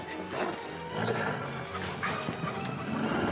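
A dog barks and whimpers through a tense outdoor confrontation, its yelps and whines close and continuous under a dense, noisy background with scattered crashes.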